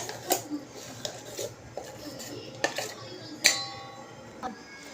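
Thick ground dahi vada batter is scraped and transferred into a vessel, giving a handful of sharp clinks and scrapes of utensil against metal spread across a quiet kitchen background.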